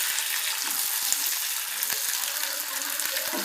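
Onions and green chillies frying in hot oil for a potato fry, a close, even crackling sizzle dotted with small pops and occasional soft clicks, with no voices.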